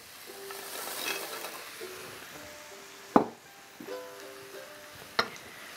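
Greens and seitan are added to a hot pan, giving a soft sizzle under scattered stirring clatter, with two sharp utensil knocks against the pan and no talk.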